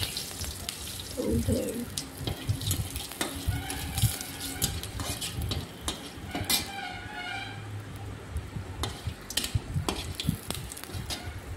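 Black peppercorns fry in a wok with a steady low sizzle, broken by sharp spatula scrapes and clinks against the metal, close by with no talk.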